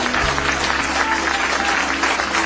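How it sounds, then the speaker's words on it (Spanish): A church congregation claps together in steady, sustained applause, a close and fairly loud wash of hands filling the whole moment. "Aplauda a Cristo, iglesia del Señor."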